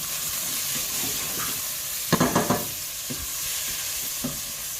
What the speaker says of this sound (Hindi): भूनूंगी मसाले को